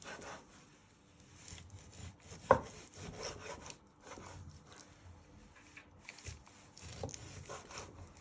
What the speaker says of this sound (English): you just keep chopping your chicken